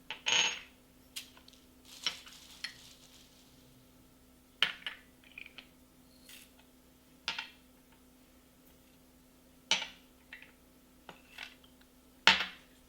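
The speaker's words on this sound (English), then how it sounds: "So put all these spices in the grinder" Dry whole spices dropped into a grinder jar for a Hyderabadi eggplant curry, small hard clatters and ticks scattered across the stretch with quiet gaps, close by and without talk.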